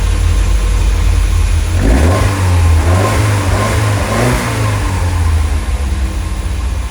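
A classic Lotus Elite engine, restarted after ten years stored in a barn, idles with a low rumble, then revs up twice around the middle before settling back to a steady idle, close by with no talking.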